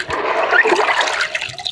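Plenty of water is poured over millet and yellow corn grains being washed, a continuous splashing gush that stays fairly loud and close throughout.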